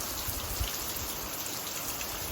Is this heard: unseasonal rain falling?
yes